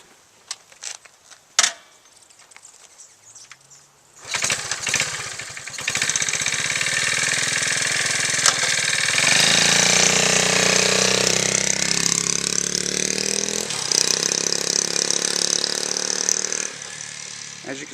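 A restored 1970 Honda CT70 small motorcycle engine starts after a few knocks and clicks, then settles into a steady, close, buzzing run that holds for the rest of the time, with talk in the background.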